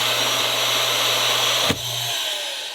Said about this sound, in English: Is central vacuum.